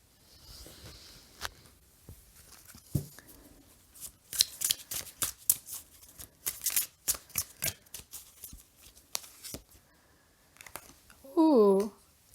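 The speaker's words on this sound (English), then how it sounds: "I'm going to have to shuffle more." Tarot cards being shuffled by hand make repeated crisp riffling bursts and soft slaps, close and fairly quiet, with a short spoken remark near the end.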